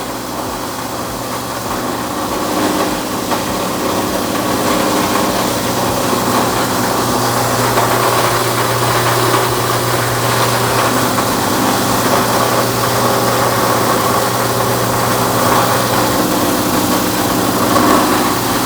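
A BDG Compact 1 mini granulator runs steadily alongside its blower fan, a loud, continuous mechanical whir and hum that stays even throughout with no talk.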